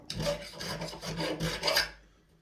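A metal file rasps across a popup trailer crank in quick back-and-forth strokes, about half a dozen close, loud scrapes in a row ending abruptly.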